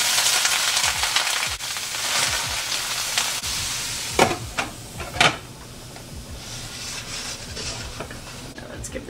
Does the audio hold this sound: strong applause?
no